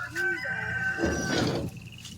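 Chickens cluck and call close by on a homestead, a few short bird vocalizations followed by a brief rustling clatter before things quiet down.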